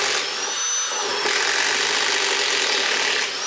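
A cordless impact driver, Milwaukee 2853-20 or Makita XDT16, drives a screw into wood, giving a loud, continuous whirring hammer buzz that runs steadily for several seconds with no talking.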